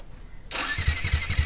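A Yamaha R15 V2 motorcycle with a fuel-injector supply fault is self-started. Half a second of quiet gives way to the starter whirring and the engine catching into a loud, close, rhythmic low chugging.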